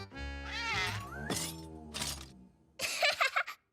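Cartoon cat meowing from inside a toy box, a couple of drawn-out, wavering meows followed by a short burst of clattering, close and fairly loud.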